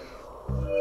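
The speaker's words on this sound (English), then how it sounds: "Yeah, he's barking a lot." A pet dog gives a single sharp bark, close and loud, preceded by a short low whine during a quiet moment indoors.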